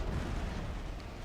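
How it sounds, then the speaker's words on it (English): Cannon artillery fire in a historical strategy video game about Italian unification, heard as a dense, low rumbling barrage of booms that blur together. "I want the two cannons then to fire straight into that mess."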